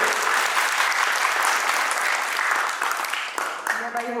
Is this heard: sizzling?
no